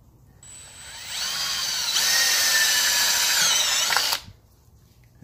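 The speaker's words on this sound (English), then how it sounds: "I'm just gonna run my drill" Power drill boring into a small boat for a trolling motor mount, a single whining burst of about four seconds that climbs in pitch, close and loud, then stops abruptly.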